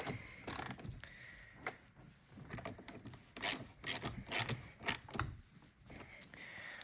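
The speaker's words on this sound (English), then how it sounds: "we are just going to tighten these nuts back up" A wrench tightening the battery cable nuts on a Dodge Durango, close metallic ratcheting clicks in short irregular bursts with pauses between, fairly quiet with no talking.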